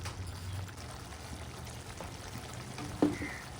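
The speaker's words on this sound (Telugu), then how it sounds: "నేను రైస్ కుక్ కాబట్టి కొద్దిగా వాటర్ యాడ్ చేస్తాను" Water pours steadily into a pan of capsicum-tomato masala curry, a soft continuous splashing with a faint sizzle underneath and a brief clink near the end.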